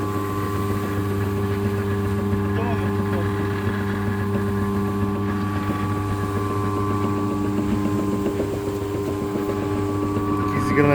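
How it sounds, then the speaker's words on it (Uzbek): The motor of a 350 kg animal feed mixer runs at a loud, steady drone with a constant pitched hum throughout, while people talk faintly nearby. "Meshalkamiz 350 kiloli yem meshalka bo'ladi."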